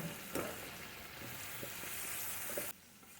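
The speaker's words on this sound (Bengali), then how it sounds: "ভালো করে এঁচোড় দিয়ে ভালো করে আর একটু কষিয়ে নেব" Boiled young jackfruit with Kashmiri chilli powder and bay leaves sautéing in a pan, a quiet steady sizzle with a few light stirring taps, cutting off abruptly near the end.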